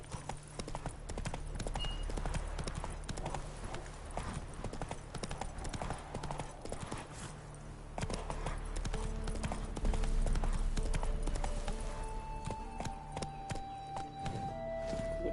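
Roach the horse's hooves clip-clop steadily in The Witcher 3, each step sharp and close. The rhythm runs through the whole stretch over quiet game ambience, with a brief whinny-like tone near the end.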